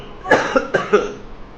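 A short burst of three or four dry coughs in quick succession, close and fairly loud, then quiet.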